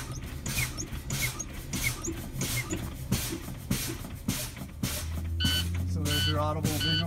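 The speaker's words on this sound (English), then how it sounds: "the audible and visual alarm will kick on before 60" A truck's air brake system is pumped down during testing, with repeated hissing bursts, then the low-pressure warning alarm cuts in as a steady buzzing tone with higher beeps near the end.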